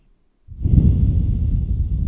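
A single deep breath during a yoga forward fold. After a brief silence it begins abruptly, then continues as one long, close, breathy exhalation.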